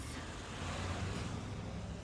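A bus engine rumbles steadily in a wooded area in the game Limbus Company, a continuous low droning roar that holds at an even level for the whole stretch with no voices.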